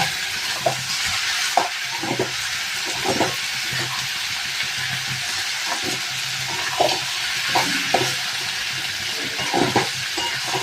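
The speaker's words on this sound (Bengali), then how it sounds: "এবারে এরকম ভাবে নাড়িয়ে দেব।" A spoon stirs food seasoned with salt and turmeric in a frying pan, giving repeated scraping strokes in an irregular rhythm over a steady, close sizzle, with no talking.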